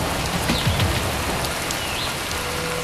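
Steady, dense heavy rain in Panama, a constant hiss and wash of drops, uniform in loudness throughout and no other sounds standing out.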